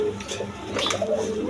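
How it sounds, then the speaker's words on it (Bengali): A pair of Gorra pigeons at a farm coos softly and close by in low, murmuring calls over faint background noise. "এখানে এক পেয়ার গররা কবুতর আছে"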